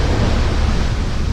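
A Hallberg-Rassy 54 sailboat under full main and genoa punches through ocean swell off Barbuda in about 12 knots of wind, giving a steady, loud broadband rush of water and wind with no distinct breaks.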